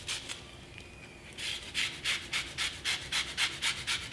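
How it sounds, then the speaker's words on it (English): A whole lemon is rubbed against a zester, making quick rhythmic rasping scrapes, about a dozen strokes that speed up in the second half. The scraping is close and fairly quiet, with no voices. "I'm going to zest in about the zest from 1 lemon"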